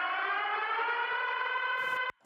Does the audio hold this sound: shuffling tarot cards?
no